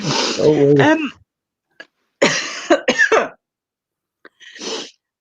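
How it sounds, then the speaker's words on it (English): Several harsh coughs come in short bursts with pauses between, close and loud, with a throaty voice at the start. "It's giving you a tickly cough."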